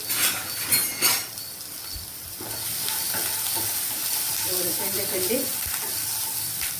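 Ingredients for liver curry, including chopped tomato, sizzle steadily in a pan while a spoon stirs them, with a few utensil scrapes and clinks up close.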